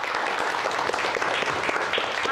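Audience applause for the winner of a musical chairs game, dense continuous clapping from a crowd, loud and even throughout.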